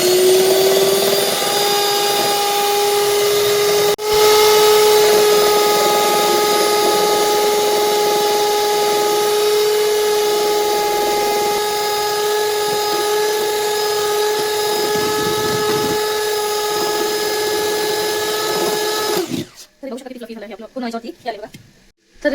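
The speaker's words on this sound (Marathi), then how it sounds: "आता आपण हे छान क्रीम एवढी फेटून घेऊया आणि मग याच्यामध्ये मिक्स करूया।" An electric beater whips cream and oil for a homemade cake. Its loud, steady motor whine runs close for about nineteen seconds, then cuts off, followed by someone speaking.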